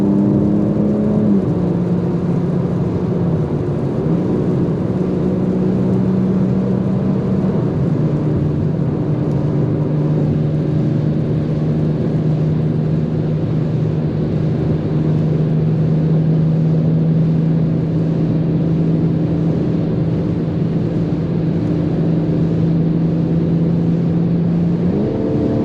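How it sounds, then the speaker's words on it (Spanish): A 2021 BMW M4 Competition holds a loud, steady engine drone at high speed, a continuous close roar with a slowly shifting pitch and constant wind and road noise. "De 230 km por hora es cuando más salvaje se vuelve este coche"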